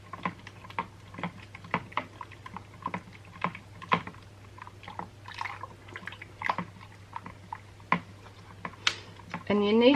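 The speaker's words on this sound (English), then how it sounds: "we take the spoon and we start to stir it straight away" A spoon stirs lye granules in a jug, giving a run of close, quick, irregular scraping and clicking taps with brief pauses, like rapid tapping; a short squeak comes right at the end.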